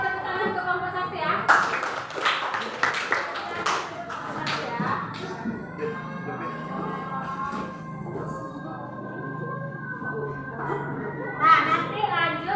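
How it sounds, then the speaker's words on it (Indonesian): A classroom of students clapping for group 1 after its presentation: a burst of scattered, uneven claps mixed with children's chatter, then fading into murmuring voices and background classroom noise. "Kita beri tepuk tangan ke kelompok 1 ya."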